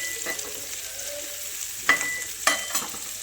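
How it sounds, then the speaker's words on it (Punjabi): Onions frying in a pan for besan bhurji, a steady close sizzle with a few sharp scraping stirs of the spatula cutting through. "ਚੰਗੀ ਤਰ੍ਹਾਂ ਪਿਆਜ਼ਾਂ ਨੂੰ ਭੁੰਨਣ ਦੇਵਾਂਗੇ"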